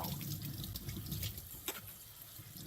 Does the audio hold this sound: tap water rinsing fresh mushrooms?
yes